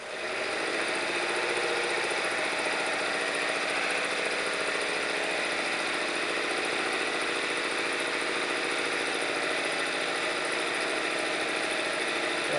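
A Visible V8 engine, a transparent working model motor, runs steadily at about 1,700 RPM, a loud, constant close mechanical drone with fast ticking valve chatter and no variation in level.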